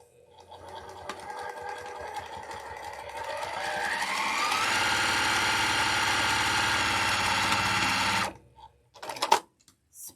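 A sewing machine stitches a fabric tissue box cover, its motor building up to a fast, steady whirring run before stopping abruptly, followed by a couple of short clicks.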